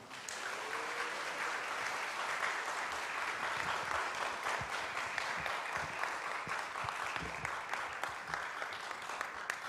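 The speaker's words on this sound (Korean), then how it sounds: "두 분을 박수로 모시겠습니다" A church congregation at a Friday late-night prayer service applauding to welcome two members coming up to share testimonies, a steady, dense clapping of many hands with occasional sharper claps, sustained evenly for several seconds.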